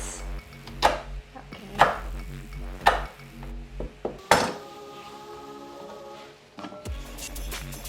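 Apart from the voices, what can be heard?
chopping large green beans with a knife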